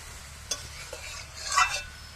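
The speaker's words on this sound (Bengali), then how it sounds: "এবার চাল ডাল সমস্ত কিছু একটু ভেজে নেব।" Rice and lentils being fried with spices and chili powder for khichuri, a few scraping stir strokes and a soft clink over a faint, quiet sizzle.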